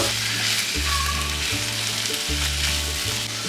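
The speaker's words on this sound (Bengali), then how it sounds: "সবজিগুলো আমি দিয়ে দিলাম, মশলার সাথে মিশিয়ে দেব" Vegetables and spices for pav bhaji fry loudly in a pan with a dense continuous sizzle, over a pulsing low hum.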